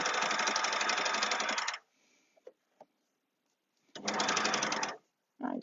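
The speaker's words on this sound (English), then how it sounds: "This is why overlockers are so good, because you get such a neat stitch." An overlocker stitching fabric with its blade trimming the edge, two loud close bursts of rapid mechanical whirring separated by a short quiet gap with small clicks, then a brief restart.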